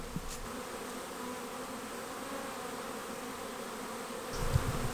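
Bees hum in a spring garden in Australia, a soft steady buzz close by and continuous throughout, with a few nearer passes standing out briefly.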